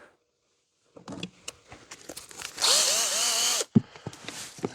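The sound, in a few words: power drill running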